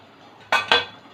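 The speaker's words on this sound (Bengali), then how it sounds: "আরও 2-3 মিনিটের জন্য ঢেকে দেব।" A metal lid set onto a cooking pot of prawn curry with potatoes simmering: two quick, close clanks of metal on metal in close succession, with no talk.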